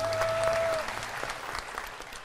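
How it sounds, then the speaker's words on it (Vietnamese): Applause from a studio audience on a Vietnamese TV comedy dating show, a steady wash of clapping filling the whole short stretch, with a brief tone at the start. "Lời chào nghe có đã, xin quý vị vỗ tay."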